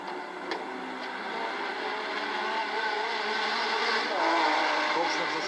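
A Porsche 956 race car at the 1986 Le Mans 24 Hours drones past at a distance, a sustained engine tone that swells slightly near the end, with crowd ambience behind it.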